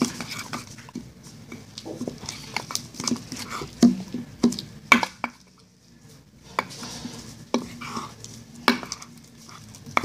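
Slime being mixed with baby oil in a bowl, giving irregular wet squelching and patting sounds with a few utensil clicks against the bowl, close by and uneven in rhythm.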